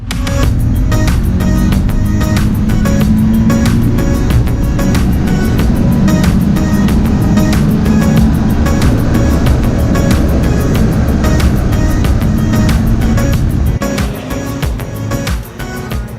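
A race car laps a track during a time attack run at Ontario Time Attack 2018, its engine a loud, continuous roar with rising and falling pitch, overlaid by repeated sharp rattling ticks throughout.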